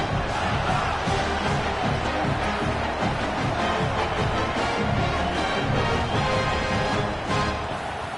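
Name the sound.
college football home crowd cheering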